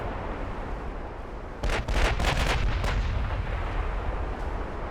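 Battleship turret guns firing in the naval game Ultimate Admiral: Dreadnoughts, a quick cluster of several heavy booming shots in close succession over a low rumbling background.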